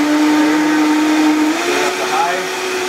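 A Vitamix blender mixing butter, coconut oil and honey into coffee runs loud and steady, its motor whine starting low and shifting upward as the speed is raised partway through.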